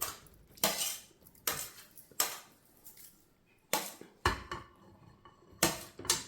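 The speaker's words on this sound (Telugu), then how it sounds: "అన్నీ మిక్స్ చేసేస్తున్నాను" A spoon repeatedly strikes and scrapes inside a bowl while a homemade lunch salad is tossed, sharp clinks recurring at an uneven rhythm, close and clear, with no voices.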